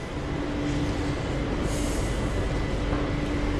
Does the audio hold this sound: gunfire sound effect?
no